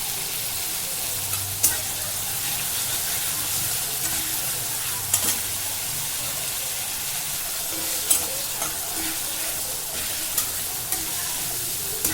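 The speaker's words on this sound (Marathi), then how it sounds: "आता आपल्याला कांदा पूर्ण ब्राऊन होऊ द्यायचा आहे" Finely chopped onion fries in a pan with a continuous, even sizzle lasting throughout, with a few faint clinks of stirring, close by and without speech.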